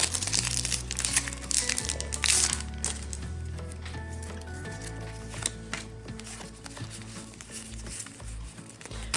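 Packaging of a Pokémon card box crinkles and rustles close up as it is opened, with sharp plastic crackles and papery scraping over a faint background hum, without voices.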